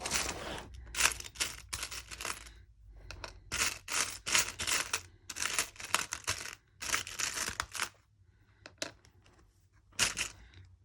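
A small tray of metal charms, bills, a watch part and many keys is rummaged through, giving bursts of clinking, rattling and crinkling near the listener in irregular clusters, with short quiet gaps between handlings.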